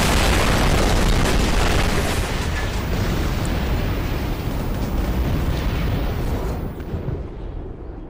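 A loud, sustained explosive roar and rumble from something blowing up, filling the first six seconds before slowly easing off.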